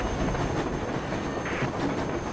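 A train rolls along in the shooter game Sine Mora EX, a loud, continuous rumbling clatter with a brief metallic hiss partway through.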